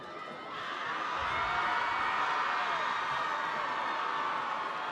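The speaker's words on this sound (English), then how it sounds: "the St. Joe's crowd, I'm not sure if you could hear it, but they are definitely loud from the other side of the field" A St. Joe's high school football crowd cheers and shouts from the far side of the field at a Friday night game, a steady, broad roar of many voices mixed with a commentator's speech.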